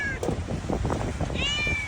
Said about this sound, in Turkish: Dükkanda doğum yapan anne kedi.